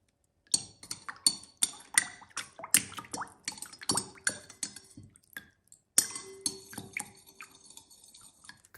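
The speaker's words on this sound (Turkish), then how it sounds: "Bir tatlı kaşığı kadar karbonatı suyun içerisine koyup karıştırıyorum." Baking soda stirred into a bowl of water with a spoon, giving a run of close, bright clinks against the bowl mixed with small splashy drips, irregular and fairly quiet, with no voices.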